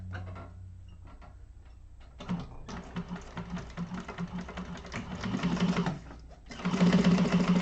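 A sewing machine runs in bursts during a class project on The Yjona, stitching to a marked line and backstitching with a 1/4 inch gap, a steady mechanical whirr that pauses and restarts, loudest near the end.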